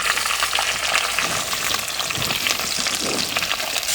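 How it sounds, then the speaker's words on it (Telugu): Chopped onions and green chillies fry in hot oil with curry leaves for a hotel-style poori kurma, a loud, dense, continuous sizzle with crackling throughout. "కోసి పెట్టుకున్న ఉల్లిపాయ, పచ్చిమిరపకాయ ముక్కలు 2 ఒకసారి వేసేసుకోవాలి"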